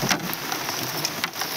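Rain falls on a flooded field in a steady hiss of dense drops, close and loud, with a few sharper splashes standing out.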